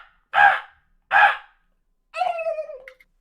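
Two sharp, loud calls a second apart are followed by a wavering, gobble-like burst: a wild turkey shock gobbling in response to loud calls, heard close and clear against silence.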